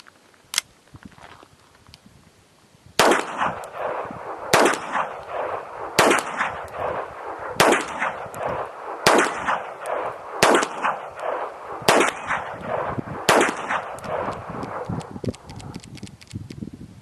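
A .22 rifle fires Winchester High Velocity ammunition: about ten sharp, loud cracks at regular intervals of roughly one and a half seconds, each followed by a brief ringing tail, outdoors and close.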